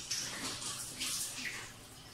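Water running steadily from a tap or shower during a bath, a soft continuous hiss and splash heard close up but at low level, with gentle surges and no talk.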